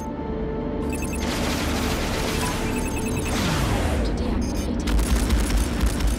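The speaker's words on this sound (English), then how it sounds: "it's so satisfying to paint a whole enemy squadron and then unleash those missiles" A missile barrage unleashed on an enemy squadron in the space combat game Strike Suit Zero: Director's Cut, a dense, loud rumbling roar of rapid launches and blasts carrying on for several seconds with no talk.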